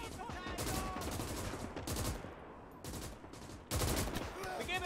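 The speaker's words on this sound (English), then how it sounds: "How long can this machine gun hold it now?" Machine gun fire in the World War II game Gates of Hell: Ostfront, dense rattling bursts one after another, loud and close with the sound of a battle all around.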